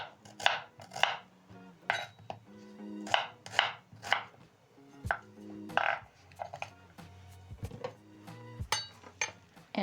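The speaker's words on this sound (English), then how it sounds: "Chop my onion." An onion is chopped with a knife on a board, crisp uneven knocks that come in quick bursts with short pauses between them, close and clear.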